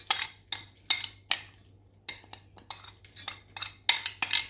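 Soaked red lentils going into a cooking pot for dhal, a run of sharp clinks and scraping impacts in quick irregular bursts, close and fairly loud, with no talking.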